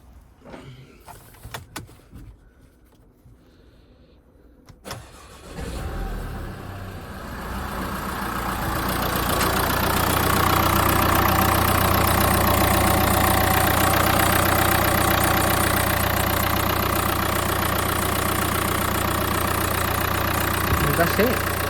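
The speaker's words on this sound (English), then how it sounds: "So let's get this car started." A Mercedes-Benz B-Class B180d W246 diesel cranks briefly after a quiet stretch, catches and settles into a steady, close idle with a clattery diesel tone that holds to the end.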